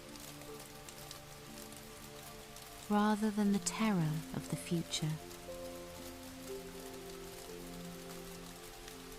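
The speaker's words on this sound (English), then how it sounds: "He watched the silver rain weave through the branches." Steady rain falls on leaves and branches in a soft, continuous patter beneath a calm narrating voice.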